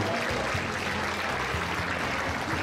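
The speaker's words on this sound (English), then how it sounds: "a huge round of applause for the Blue Alliance" A crowd at a FIRST Robotics Competition event applauds, steady dense clapping mixed with a low rumbling arena hum, continuous and fairly loud throughout.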